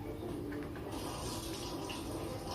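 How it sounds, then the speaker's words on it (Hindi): Water running and dripping through a kitchen sieve, a steady close splashing wash that holds evenly throughout with no voices. "पानी टपकता है,"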